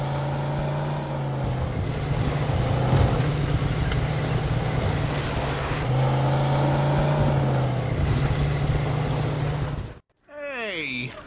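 A car driving in the game Mafia 2 heading toward a junkyard gate, its engine droning steadily with shifts in pitch as it accelerates and eases off, before cutting out near the end.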